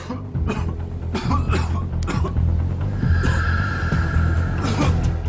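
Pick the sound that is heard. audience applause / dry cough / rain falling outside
dry cough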